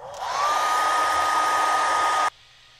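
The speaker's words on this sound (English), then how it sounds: "Hair dryer." A hair dryer whirs at full blast with a steady high-pitched whine, running for about two seconds before cutting off abruptly.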